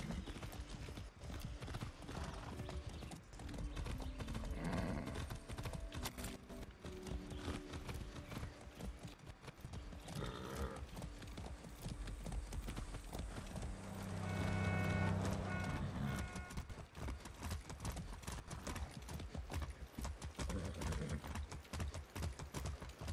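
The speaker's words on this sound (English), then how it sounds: "I haven't ridden a horse since basic training." Rapid horse hooves gallop in a steady clip-clop rhythm in the video game Far Cry 6, with a brief whinny partway through and a faint hum behind.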